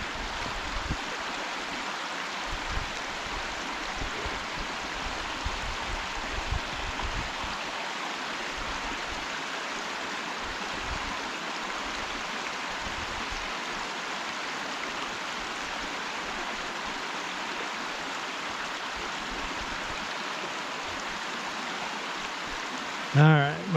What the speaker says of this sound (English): Oh, it is. It's a different creek.